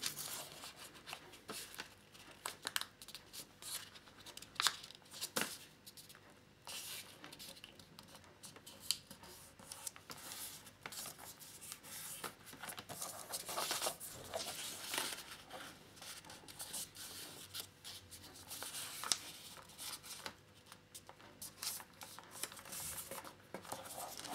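Origami paper being folded into a kite, giving close, continuous soft crinkling and sharp creasing taps throughout, with no speech.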